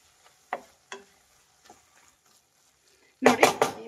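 Capsicum tomato gravy stirred in a frying pan, a few sparse scrapes and taps followed by a short burst of louder clattering scraping at the end.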